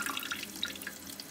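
Water trickling from a spigot into a homemade toilet-tank holder for urinal cakes, with a quick series of light, close drips and splashes that settle into a faint steady trickle.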